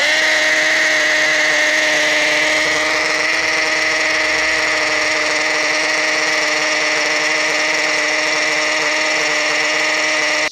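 A Bosch GSB 14.4 cordless drill on its hammer setting bores into rock, a loud, steady high-pitched whine with a buzzing hammer rattle, running continuously for about ten seconds with no talking.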